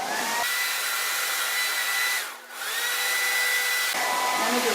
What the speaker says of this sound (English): So I pull it up like this and I kind of dry it in the direction I want it to go, which is away from my face.